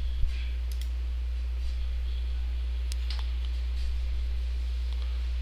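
Computer mouse clicks during software setup on a Windows PC, a few sharp isolated clicks spaced out over quiet steady hum.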